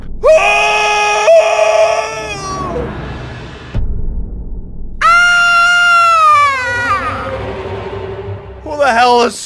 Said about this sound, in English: Who the hell is screaming?